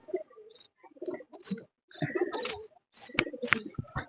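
Lakkha pigeons coo in short, throaty bursts, close by and fairly loud. Several birds overlap in an irregular rhythm, with brief gaps between calls and no talking.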